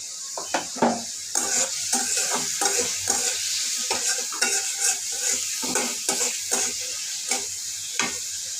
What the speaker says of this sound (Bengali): এটা আমি একটু ভেজে নেব।